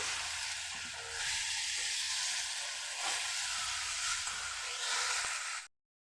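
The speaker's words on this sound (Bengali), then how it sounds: "আলু আর ফুলকপি হলুদ আর লঙ্কার গুঁড়োর মধ্যে ভালো করে কষিয়ে নিতে হবে।" Potato and cauliflower being sautéed with turmeric and chilli powder make a steady, close frying sizzle with occasional soft stirring scrapes, running evenly until it cuts off abruptly just before the end.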